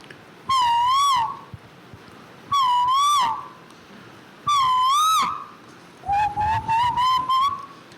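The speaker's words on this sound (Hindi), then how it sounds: "कोयल बोल रही है" A koel (Asian cuckoo) calling: three loud, drawn-out whistled notes that rise and fall, evenly spaced, then a quicker run of short clipped whistles, all close and clear with no talking.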